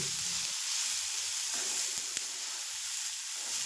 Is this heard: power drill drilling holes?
no